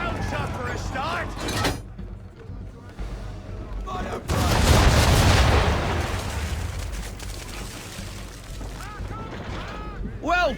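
Broadside of round shot from a sailing ship's cannons in Assassin's Creed III: a massive roaring volley erupts midway and rumbles on for seconds, with voices talking before and after.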